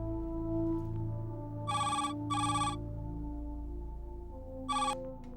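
A telephone rings in bursts, two quick rings then a pause and a third, bright and electronic, over a low steady background hum.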